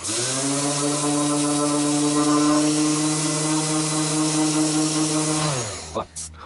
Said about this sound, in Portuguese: se você tiver uma lixadeira elétrica, é muito mais fácil